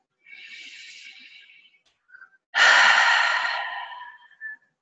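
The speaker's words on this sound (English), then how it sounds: "Take a deep breath." A slow, deep, audible breath in, a brief pause, then a louder, longer breath out, close to the microphone in a quiet room during a yoga tapping session.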